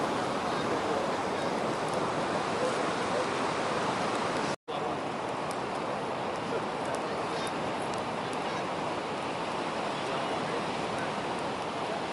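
Powerful ocean surf crashing along an Australian surf beach, a dense, continuous roar of broken waves and wind that holds steady and loud throughout, with a single abrupt dropout partway through.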